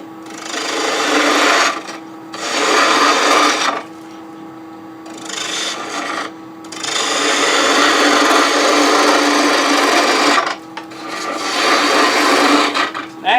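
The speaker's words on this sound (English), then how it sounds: "I tend to want to use a little larger spindle gouge, 1/2 inch. So let's just start shaping it." Spindle gouge, half-inch, cutting a wooden pear spinning on a lathe, a loud steady rasping scrape in several long passes broken by short pauses, close and alone without talk.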